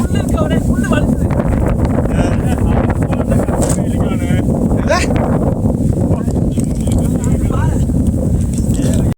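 Strong wind on the Renga Malai mountain trek roars steadily across the microphone, a loud, constant rushing buffet that never lets up, with voices faintly mixed in.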